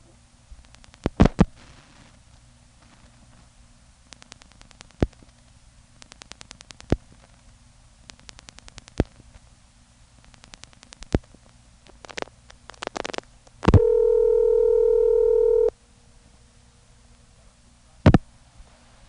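Telephone dialing through an NX1 register, heard as a string of sharp pulse clicks in separated bursts with faint low groans between digits, then a steady tone for about two seconds and a final click.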